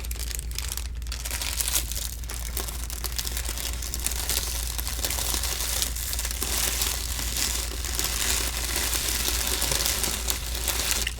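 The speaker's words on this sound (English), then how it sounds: "It's just some crinkling." Steady, dense crinkling of material for ASMR, close and continuous throughout with no talking.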